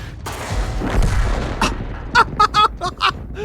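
In a naval warfare game, a shell strikes a sunken ship wreck with a metallic impact, heard among booming artillery fire and a quick burst of sharp, clanging hits close by.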